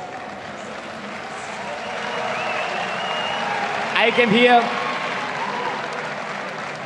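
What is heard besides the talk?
crowd applauding at Gamescom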